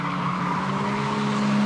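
Ford Laser race cars from 1986 sweep through a corner at Amaroo Park, tires squealing and skidding over a steady, close engine drone with a sustained pitched whine.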